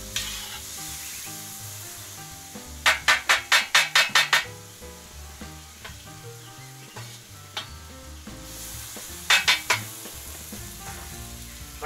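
Food sizzles and fries in a kazan over a campfire, seasoned with smoked paprika and soy sauce, while a utensil scrapes and taps the pan in quick rhythmic bursts of about eight strokes, then again later, under a continuous sizzle.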